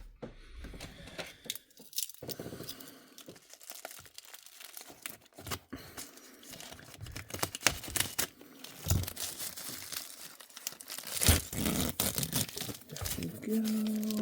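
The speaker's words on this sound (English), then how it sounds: "let's take the plastic off" Plastic wrapping crinkles and tears as it is pulled off a boxed 1/64 scale Moreart diorama, a close run of irregular crackling bursts over roughly fourteen seconds.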